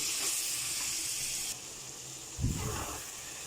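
Tomatoes and masala fry in a pan for Hyderabadi kaleji ka salan, giving a soft, steady sizzling hiss with a brief louder stir or bump near the end.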